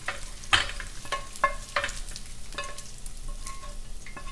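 Ribeye steak fries in oil in a wok while being stirred, giving a soft steady sizzle broken by several sharp scraping clatters of the utensil against the pan.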